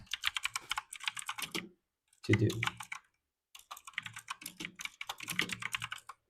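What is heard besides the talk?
typing on a computer keyboard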